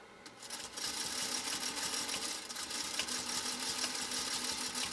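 A 1956 Singer Featherweight 221 sewing machine stitches through compressed felt, its rapid clattering needle action running continuously and fairly loud after a brief quieter start.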